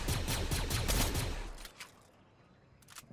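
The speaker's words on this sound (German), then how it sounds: "Hä, hinter uns war gerade auch ein Schuss." Gunfire in the video game Fortnite: a rapid burst of shots for about a second and a half, then fading to quieter scattered reports.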